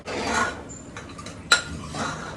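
Vegetables are tipped into a hot tempering of spices in a pan in a home kitchen, bringing quiet utensil clatter and a brief sharp clink against a low background hiss.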